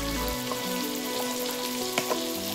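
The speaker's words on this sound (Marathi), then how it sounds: "4 ते 5 मिनिट छान हा मसाला आणि वांगी भाजून घेऊया" Masala and eggplant fry in a pan for a Marathi khar vangi dish, giving a steady close sizzle with a couple of brief stirring clinks toward the end.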